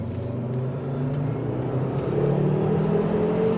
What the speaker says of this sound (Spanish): es una gozada como suena este motor y las aceleraciones que tiene